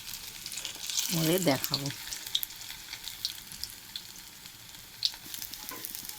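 Fish fritters fry in hot oil in a pan, a steady bubbling sizzle with scattered pops, close and moderate; someone speaks briefly early on over the frying.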